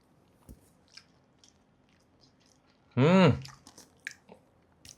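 Someone bites into and chews bread halwa from a Hyderabad iftar pack, made with cashews and floating in ghee or oil. A single loud, close, squishy chewing burst lasts about half a second amid quiet room sounds.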